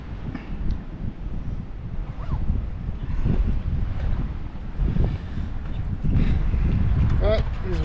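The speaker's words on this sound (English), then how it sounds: "But windy." Strong wind buffets the microphone during a hot, windy morning stop on a motorcycle tour in Western Australia, a dense, rumbling roar that stays steady throughout, with faint voices partly buried underneath.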